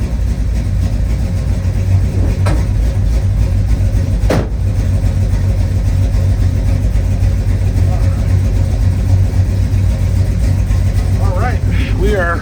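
A 1966 Chevrolet Chevelle engine runs steadily at idle with a loud, deep, continuous rumble and a couple of brief clunks.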